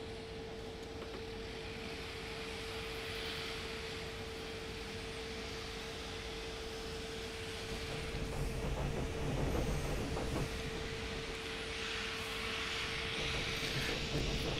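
A steady, smooth rumble and airy rush of an ICE 2 high-speed train running between Hamburg and Hanover, heard from inside, with a constant hum, swelling slightly louder halfway through.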